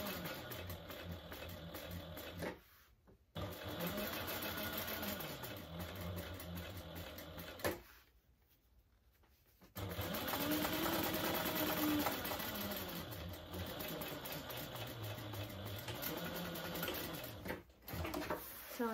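Sewing machine stitching a zipper into a lined piece with a 3/8 inch seam allowance, steady mechanical whirring in long runs broken by two short pauses and one longer one, close and alone.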